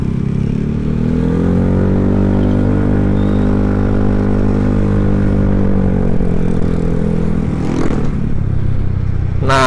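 Honda BeAT scooter fitted with a BRT 130cc bore-up kit accelerating hard, a loud close buzzing engine drone that holds steady and rises in pitch, then drops off near the end with some clatter.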